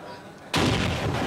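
Gunfire in the video game Modern Warfare 3 during a competitive match: a sudden heavy burst of shots over quieter background game noise, sustained and dense.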